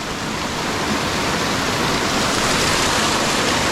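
A full river pours steadily into a forest pool in the Balandra forest, a loud, dense, unbroken rush of water close by with no pauses.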